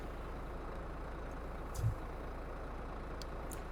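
An old Ford tractor in Farming Simulator 22 drones with a steady low engine rumble throughout, with a brief thump midway and faint clicks above.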